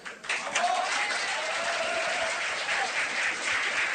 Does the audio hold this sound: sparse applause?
yes